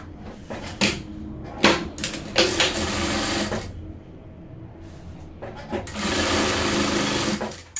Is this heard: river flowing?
no